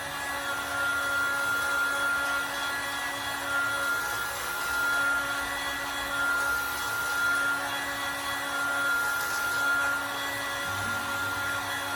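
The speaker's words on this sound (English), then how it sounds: "So I'm going to apply a little bit more heat." A heat gun blows steadily while warming a latex hood, a continuous close whooshing hum with a faint whine, unbroken and alone.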